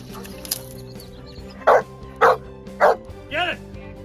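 Search and rescue dogs bark four times in a row, loud and close, each bark evenly spaced after a quieter start with faint background noise.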